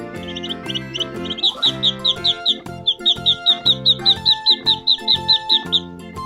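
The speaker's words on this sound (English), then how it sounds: "duckling," Duckling peeping: a rapid, steady run of high, thin chirps, about a couple per second, repeated through the clip over louder background music with no talking.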